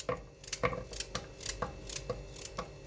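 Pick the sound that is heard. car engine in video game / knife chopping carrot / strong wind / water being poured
knife chopping carrot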